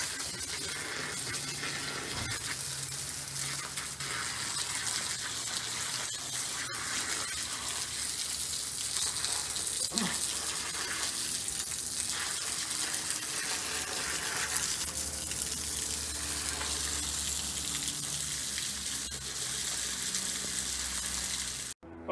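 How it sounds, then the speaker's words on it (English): Cool water runs steadily through the line of a tankless water heater during a descaling flush, a continuous broad hissing gush with no pauses, close and even in level throughout. "we're done flushing the line with running the cool water through the system"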